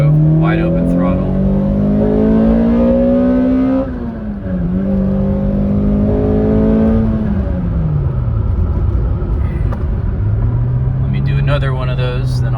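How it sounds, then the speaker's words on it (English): A 2005 Toyota Corolla XRS fitted with an Injen cold air intake makes a loud full-throttle pull in second gear, the engine note climbing steadily, dipping briefly at a shift near four seconds, then rising again before easing off, with the window shut. "I'm going to start this video with a pull or two. This is a second gear. Here we go, wide open throttle."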